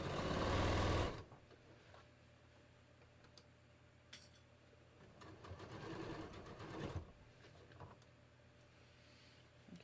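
A sewing machine sets in a bodice sleeve near the underarm seam: one loud burst of fast stitching at the start, then a low steady motor hum with clattering and handling noises over the rest.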